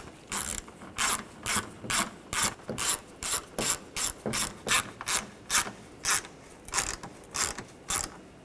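Ratchet wrench snugging down a camshaft position sensor bolt on a 2013-2019 Ford Escape, steady rhythmic clicking strokes, about twenty even pulls close to the mic with no talking.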